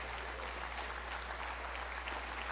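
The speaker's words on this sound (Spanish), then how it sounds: "¿Por qué no le da un aplauso a ese Dios maravilloso?" A church congregation applauds during an evangelistic service, a steady wash of many hands clapping that holds at an even level for the whole stretch, with a low electrical hum underneath and no speech.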